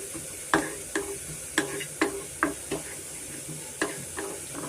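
Horse gram, peanuts and lentils dry-roasting in a pan while being stirred, giving a string of sharp crackling scrapes and pops spaced about half a second apart over a low steady sizzle.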